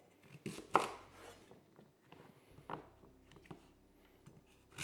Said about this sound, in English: I am just going to cube this up, probably into about just over 1 centimetre cubes